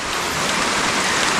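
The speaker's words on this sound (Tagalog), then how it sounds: "naulan-ulan na." Steady rain pours down over a construction site where steel trusses and tubular framing are being put up, a dense, even hiss with soft low patter that stays loud and unbroken throughout.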